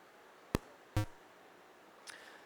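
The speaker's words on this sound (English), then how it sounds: "The click sounds like this." A modular synthesizer sequencer fires a few sharp, isolated clicks, two close together and a fainter one later, each brief with a short ringing tail, against a quiet background.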